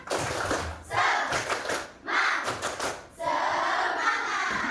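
A school class performs the 'tepuk semangat' spirit chant, young voices shouting in unison with rhythmic hand claps in loud bursts separated by short gaps, fairly close in a classroom.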